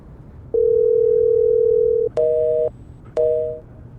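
A phone call goes unanswered with a steady electronic tone: one long continuous note, then two shorter double-pitched beeps with brief gaps, heard clearly and alone.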